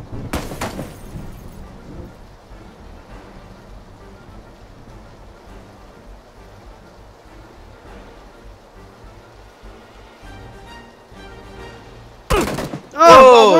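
Gunfire in the battle royale game Battlegrounds: a burst at the start and loud, rapid shots near the end, with game ambience and players' chatter in between.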